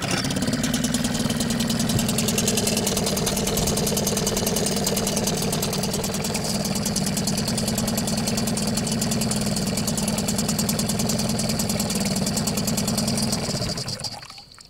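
A Yamaha 3 hp outboard motor runs steadily at a constant, buzzing idle for a long stretch, close and loud, then cuts off at the end.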